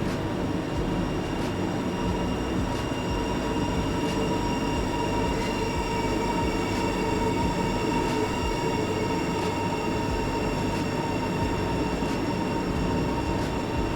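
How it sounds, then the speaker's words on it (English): High-speed train arriving in the Train Sim World 2 game on a Southeastern line, a steady loud rumble of rolling wheels and motor drone with regular faint clicks. "Here comes the other train."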